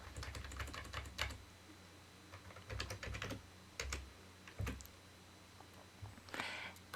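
Keys clatter on a computer keyboard as a model name is typed into a pop-up naming window, bursts of quick strokes separated by short pauses, close and clear with no voices.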